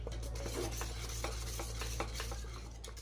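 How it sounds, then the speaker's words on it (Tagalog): A milk mixture stirred in a pot while cheese melts into it, with a spoon scraping and tapping the pot in a quick, uneven rhythm under a low steady hum, and no talking. "Haluin lang po natin hanggang sa matunaw yung nilagay natin na cheese."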